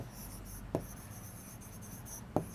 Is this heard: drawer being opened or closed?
no